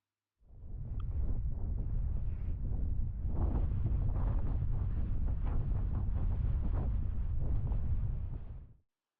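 Strong wind roars continuously over the microphone during a high-wind paraglider flight approaching a hilltop landing, a loud steady buffeting rush that holds throughout.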